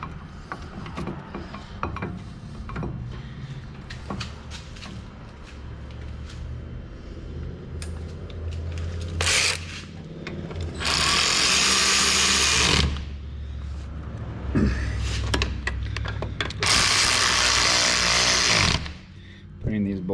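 Ratchet tightening brake caliper bolts on a 2006-2012 Ford Ranger, with quick bursts of clicking and mechanical rattling close by, several loud stretches of cranking separated by pauses, under a voice speaking.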